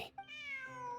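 A cat in the video game Genshin Impact gives a single short, drawn-out meow, clear and fairly close, with no talking around it.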